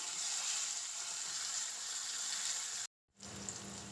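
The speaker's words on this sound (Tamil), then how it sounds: "சரி, இப்போ வெங்காயம் வதங்கிட்டு தக்காளி போட்டுக்கலாம். தக்காளி கொஞ்சம் நல்லா வதங்கணும்." Tomatoes and onions sautéing in oil in a pan for a pea and potato kurma, a steady broadband sizzle that holds for nearly three seconds, drops out briefly, then resumes at a similar level.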